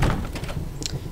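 Locked door being tried in the Resident Evil video game on PS4: a short rattle and handle clunk followed by a brief thunk, close and clear, with no voices.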